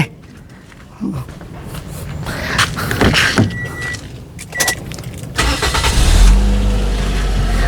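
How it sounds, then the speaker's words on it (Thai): A Toyota Altis engine cranks and turns over, then settles into a steady low idle rumble, heard close by with a few clicks and rattles. "เดี๋ยวเชิญสตาร์ทเสียงเครื่องให้ดูเลยแป๊บนึงครับ"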